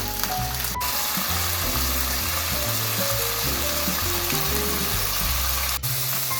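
Ingredients for nurungji cream pasta stir-fry in a pan, with steady close sizzling and crackling and occasional clinks of stirring throughout.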